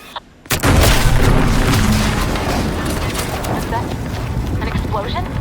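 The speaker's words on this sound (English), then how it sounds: "An explosion?" Explosion in The Outer Worlds 2: a sudden loud boom after a brief quiet moment, followed by a sustained roaring rumble and debris noise, with a voice faintly underneath.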